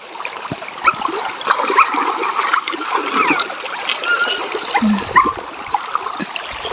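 A person dives into a river, and water splashes, churns and trickles close by in a busy, continuous wash of splatter.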